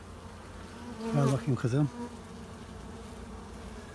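Honey bees buzzing around hive frames make a soft, steady hum in the background, briefly covered by a short spoken phrase near the middle.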